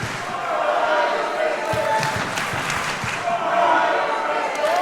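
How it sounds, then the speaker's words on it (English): A crowd at a professional wrestling show roars and cheers steadily, with scattered thuds and slams from the ring breaking through the noise. "Listen to the crowd."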